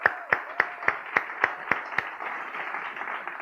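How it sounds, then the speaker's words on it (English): Applause from a church congregation: a short run of about eight spaced, fairly faint claps at a steady beat, then a softer, blended patter of clapping that fades out. "yeah, we can clap for that."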